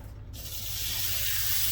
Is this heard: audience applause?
no